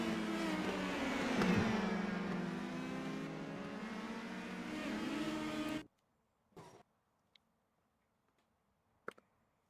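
Racing car engines in a video game, a loud sustained roar with rising revs for about six seconds, then cutting off abruptly to near silence with a few faint ticks.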